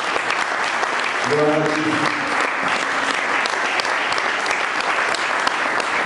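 Congregation applauding in a church, a dense steady clapping that runs throughout with a brief spoken phrase heard over it.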